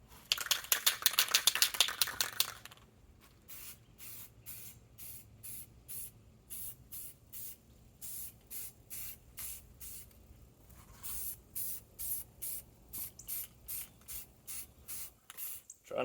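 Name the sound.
spray coating a deer skull euro mount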